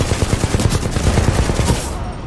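Rapid automatic gunfire from a Titanfall 2 firefight aimed at a turret, a steady, loud burst of repeated shots for about two seconds before cutting off.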